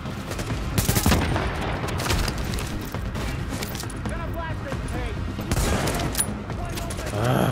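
Gunfire fills a firefight in The Division, with a dense crackle of shots and a few louder bangs over steady combat noise. Voices speak over the gunfire.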